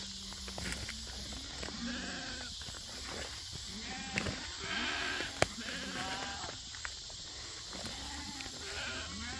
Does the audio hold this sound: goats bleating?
yes